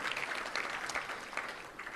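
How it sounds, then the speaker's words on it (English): Audience applause for the sponsors at a Little Rock Touchdown Club luncheon, a steady dense patter of many hands clapping together, sustained and even throughout. "let's give a round of applause for all of our great sponsors"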